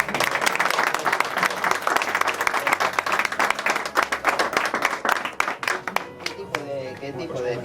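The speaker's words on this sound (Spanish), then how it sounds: "y un aplauso para él, ¿no?" Audience applause at a presentation of the novel Ekún, with dense steady clapping from a room full of people that thins out toward the end.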